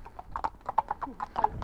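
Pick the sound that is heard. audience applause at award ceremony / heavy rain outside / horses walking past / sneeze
horses walking past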